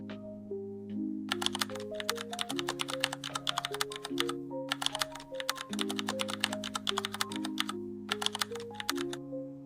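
A computer keyboard clicks rapidly and continuously as an SSH command is entered, with short pauses between runs of keystrokes, over a steady background melody.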